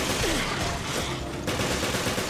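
Sustained rapid gunfire from a propeller enemy in the video game Resident Evil Revelations, Raid Mode, a dense continuous crackle of shots filling the whole stretch without pause.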